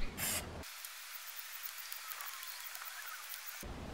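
Penetrating oil sprays from an aerosol can onto bolts in a steady, fairly faint hiss lasting about three seconds, bracketed by brief clicks and handling noise.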